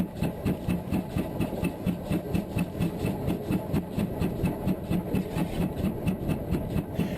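A heritage railway locomotive on the Llangollen Railway works hard along a straight stretch, heard from the cab as a steady rhythmic chuffing and clatter with regular beats throughout, close and moderately loud.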